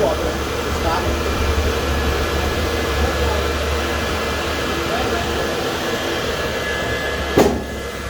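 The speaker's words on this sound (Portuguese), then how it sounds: "os caras botaram o ventilador" An electric fan runs steadily with a constant, even whooshing hum that stays at the same level throughout, ending with one brief sharp click.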